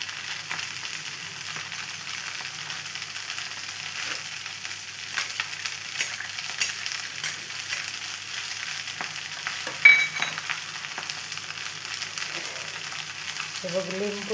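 Vegetables frying in ghee as they are stirred, making a soft, steady sizzle with light scraping and an occasional sharp clink of the utensil against the pan.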